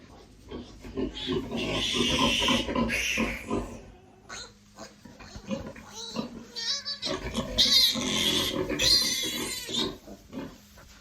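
Newborn piglets squeal beside their sow during farrowing on a farm, shrill, close bursts in two main bouts with grunting between, and some voices faintly mixed in.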